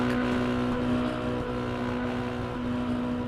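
A mini stock race car engine roars steadily in iRacing at Southern National Motorsports Park, a loud sustained drone with a strong buzzing tone holding nearly constant pitch throughout.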